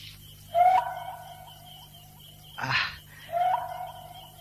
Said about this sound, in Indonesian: kenapa suara burung hantu makin lama makin aneh ya